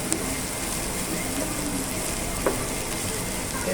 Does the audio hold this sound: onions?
yes